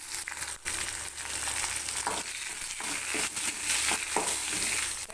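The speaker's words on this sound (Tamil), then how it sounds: "இப்போ கருவேப்பிலையும் வரமிளகாயும் போட்டுக்கலாம் போட்டு அப்படியே லைட்டாக ஒரு வதக்கு வதக்கிக்கலாம்" Curry leaves and dried red chillies sputter in hot tempering oil after mustard seeds, a steady close crackling sizzle with sharp pops, for a tamarind curry with fried okra.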